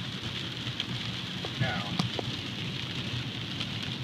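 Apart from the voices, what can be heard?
rain falling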